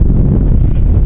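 Strong desert wind in Uzbekistan buffets the microphone in a steady, loud low roar with no letup.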